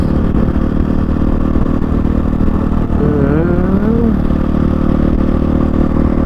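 Motorcycle ride with a loud, steady engine drone and wind rumble throughout, a brief rising whine in the middle.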